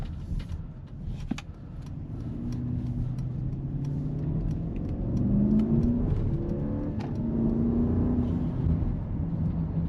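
A 2025 Mercedes-Maybach GLS 600 SUV with a 4-liter AMG V8 bi-turbo engine accelerates hard, its engine note swelling steadily and rising in pitch, heard from inside the cabin with road noise.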